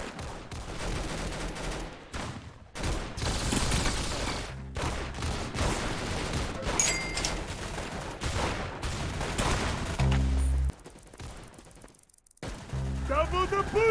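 Gunfire in the video game Clown Infection comes as rapid, sharp bursts of shots, loud and near. The volleys are broken by short pauses and layered over game music and effects.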